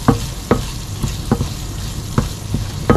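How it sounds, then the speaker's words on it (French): Spoonfuls of cream are stirred into a hot, sizzling pan. Repeated scraping strokes come about every half second over a low fry hiss, with no voices. "Et je mélange"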